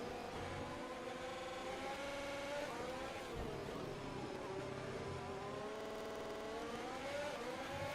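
A Formula 1 race car engine in the video game F1 2021 at Silverstone, a steady high-pitched whine with rising and falling pitch as gears shift, heard fairly quietly throughout.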